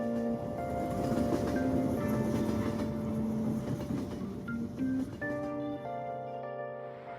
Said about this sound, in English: looks like the train's coming.